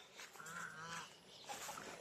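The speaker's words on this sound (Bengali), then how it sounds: "এগুলো হচ্ছে আমাদের হাঁস।" Farm ducks give a short burst of nasal honking calls close by, then a few fainter squawks follow.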